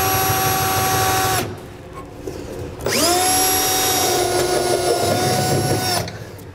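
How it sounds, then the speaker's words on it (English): A half-inch bit drills a hole through a 2015 GMC Sierra truck bed, a loud power drill whining steadily, pausing briefly, then spinning up again for a longer second burst before stopping. "we're gonna take a half inch drill bit and we're gonna drill one hole in each of the slots"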